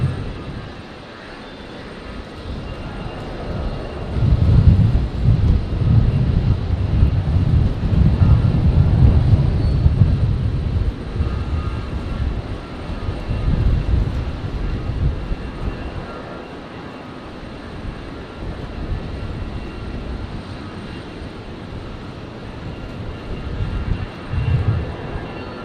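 An aircraft engine run-up at Brisbane airport sounds as a sustained, distant low roar that swells and eases over time, with no talking.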